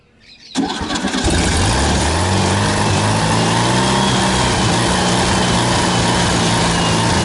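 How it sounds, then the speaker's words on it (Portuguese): A 1975 Volkswagen Beetle engine cranks and catches, then settles into a loud, steady running rumble close by. "Bruna, dá a partida de novo."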